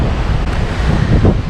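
Strong wind buffets the open deck of a river cruise ship, a loud, continuous roar of gusts hitting the microphone with no voices.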